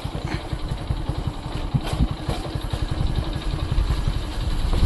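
A motorcycle engine runs on a village road in Punjab, a steady low, throbbing chug with mechanical clatter that holds fairly loud and close throughout, with no voices.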